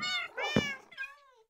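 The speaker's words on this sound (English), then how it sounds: "So here's the kitty cat." A Minecraft cat meows twice, clear and close, with a drawn-out first call followed by a shorter one and a brief click at the end.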